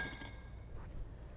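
Pine nuts tip into a skillet with a few faint, quick clinks and ticks near the start, then a soft low hum fills the rest of the short moment.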